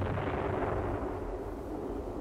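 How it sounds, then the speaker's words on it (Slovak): A cannon fired from a ship in a 1957 Slovak radio adaptation of Jules Verne's The Mysterious Island: a deep, distant rumbling boom rolls on continuously, with heavy low-frequency weight and no voices. "Medzi zábleskom a zvukom výstrelu prešlo 6 sekúnd."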